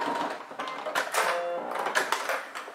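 A sewing machine stitching a fabric Christmas stocking, with short runs of rapid mechanical whirring broken by brief pauses, close and fairly loud.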